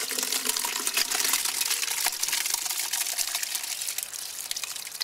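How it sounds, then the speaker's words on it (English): Crushed grapes and grape juice pour into a bucket with a steady wet gushing, sloshing rush that runs close and fairly loud for several seconds. "I'm going to put the grapes and grape juice that you crushed yesterday with your feet into the bucket"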